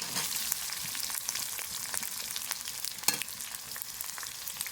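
Chopped onion frying in oil with dried red chilli and green chillies, a constant crackling sizzle punctuated by scattered pops and stirring clicks, close but fairly soft, with no voices.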